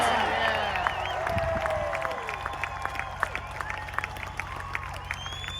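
An outdoor country concert crowd at Rock the Country in Hastings, Michigan cheers and claps, a broad wash of distant voices and applause swelling and then fading while music tones linger.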